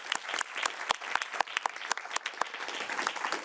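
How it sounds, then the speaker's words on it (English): An audience claps steadily, a moderate burst of applause that is close and sustained throughout, with no voices heard. "we should give a round of applause to the panel for their fantastic input"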